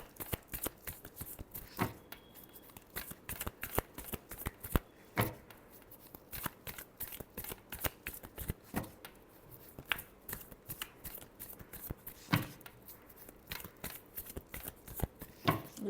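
Tarot cards are shuffled by hand in a quiet room: a long run of sharp, irregular riffling snaps and flicks, close to the microphone, with no talk.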